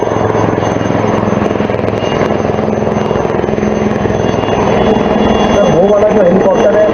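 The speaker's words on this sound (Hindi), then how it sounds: "जो हेलीकॉप्टर है वो आपको लो होवर जंप दिखाएगा" A low-hovering military helicopter drones loudly and steadily, its rotor thrum and engine whine filling the scene while someone talks over it near the end.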